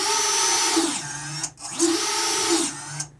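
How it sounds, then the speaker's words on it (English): Brushless motors of an Eachine Wizard X220 racing drone, spun up without propellers, rising and falling in pitch through two loud whirring bursts with a brief pause between. "I love the sound of those brushless motors, Justin."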